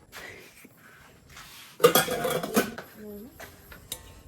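Metal mixing bowls and pots clank and rattle as they are handled in a home kitchen, a loud burst of scraping metal in the middle with lighter knocks before and after, and voices faintly around it.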